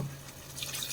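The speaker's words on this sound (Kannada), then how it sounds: "ಈಗ ಮಿಕ್ಸಿ ಜಾರ್ ತೊಳ್ಕೊಂಡಿರೋದು ನೀರು ಹಾಕೊಳ್ಳೋಣ." Rinse water from a mixer jar poured into a frying masala for prawn sambar, a short close splash and trickle that builds slightly toward the end.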